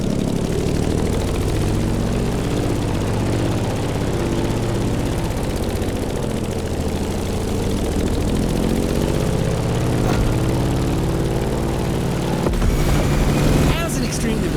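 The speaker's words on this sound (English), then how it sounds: "In the cockpit of a stunning Grumman F-8F Bearcat" A Grumman F8F Bearcat propeller fighter in The Crew Motorfest, its piston engine droning steadily and close with a loud, even low rumble throughout, a brief change in texture near the end.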